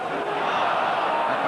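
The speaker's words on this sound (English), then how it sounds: "this noisy St James's Park crowd" A noisy football crowd at St James's Park during a 1986 Newcastle United v West Ham match, a continuous roar of many voices from the stands, fairly steady and broad.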